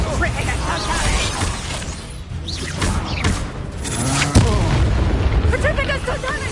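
Spell blasts and explosions in the Hogwarts Legacy video game: a busy run of booms, bursts and crackling magic effects that keeps going without a break, with a sharp hit near the end and a voice speaking over it.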